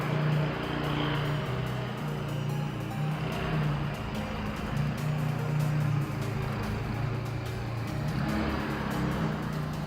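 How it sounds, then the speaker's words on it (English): A McLaren supercar at Daytona fires up and idles loudly nearby, its steady low engine rumble and drone filling the scene without pause. "Got a McLaren starting up, making a racket."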